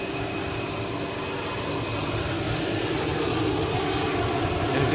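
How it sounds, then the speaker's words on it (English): Exhaust from a CRJ jet's APU in a flight simulator game, a steady broadband rushing roar with faint tonal whine, gradually swelling louder over a few seconds with no voices. "There's APU exhaust here. You can hear all the air rushing out."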